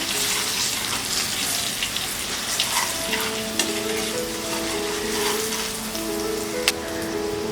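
Turmeric stirred into frying cauliflower sabzi masala, a steady close sizzle and crackle with scattered clicks of a spoon scraping the pan, continuous throughout with no talk.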